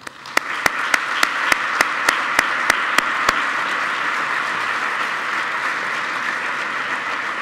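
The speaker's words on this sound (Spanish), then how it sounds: "Un aplauso para él, por favor." Audience applause fills a ceremony hall at an anniversary event for the Erasmus programme, a dense steady roar of many hands clapping, opening with a few loud distinct claps and sustained throughout.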